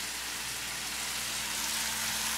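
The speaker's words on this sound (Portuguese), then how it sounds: "Ou você vai fritando nesse açúcar e vai deixando caramelizar." Onion frying and caramelizing in sugar in a pan for a vegetarian burger, a steady close hiss and sizzle with no talking.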